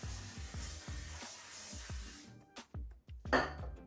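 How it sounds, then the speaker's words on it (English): Cooking spray misted into a 9x13 casserole dish, a faint, soft hiss lasting a couple of seconds among light kitchen thumps and a few sharper clicks. "All right, let's get my 9x13 casserole dish sprayed."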